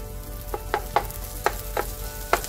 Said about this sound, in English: Increasing the heat, adding a little bit of oil to it, the tomatoes.